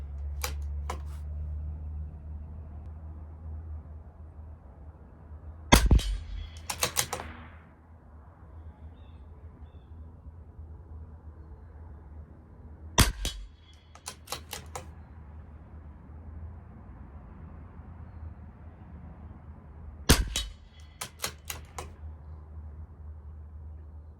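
A CZ 457 LRP rimfire rifle fires SK Standard Plus ammunition at a 50-yard range, three sharp single shots spaced several seconds apart, each with a brief follow-up clatter, over a quiet background hum.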